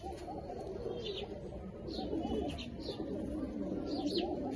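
Golden Kasuri pigeons coo softly in repeated low, rolling calls, fairly close and steady, with faint chirps from other birds above.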